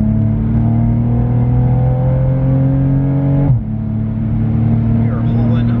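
A 2020+ Toyota Supra GR fitted with an aftermarket exhaust accelerates hard from inside the cabin, its loud droning engine note climbing through the revs before a sudden shift break, then pulling again, with a voice faintly underneath.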